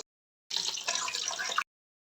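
Water splashes into a pan of Bengali fish curry with tomatoes, a single brief pour lasting about a second, fairly quiet and close, with no voices.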